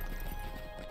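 Horse hooves clip-clop steadily beneath a mounted rider in The Lord of the Rings Online, a close, continuous rhythmic trotting with no voices over it.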